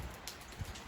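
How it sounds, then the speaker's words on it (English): Rain from the remnants of Hurricane Ian, now a tropical storm, falls steadily near the shore at Solomon's Island, a soft continuous patter with a couple of slightly louder drops. "It's now just a tropical storm and a bunch of rain."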